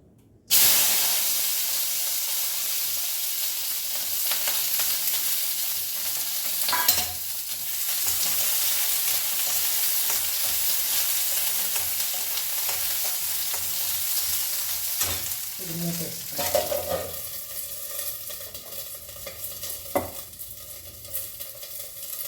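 Chillies crackle and sizzle as they fry in hot oil for a tomato, fenugreek-leaf and gooseberry chutney, with a steady close hiss, occasional stirring scrapes, and brief louder spatters near the end.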